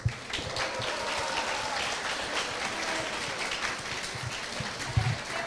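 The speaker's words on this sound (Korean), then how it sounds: "다시 한번 태권도 공연팀에게 큰 박수 부탁드립니다." Warm, continuous applause from an audience for a taekwondo performance team at a Korean–Japanese sister-school anniversary event, a dense steady patter of many hands, fairly close, with no speech over it.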